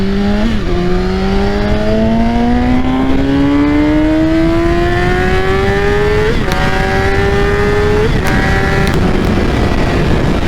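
A BMW S1000RR sport motorcycle's engine screams upward through several gears, each rising whine cut by a quick shift, loud and close throughout.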